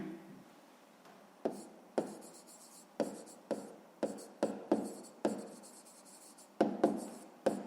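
Pen writing out a math solution on paper, a series of short scratchy strokes in irregular bursts, close and quiet with brief pauses between, no talk.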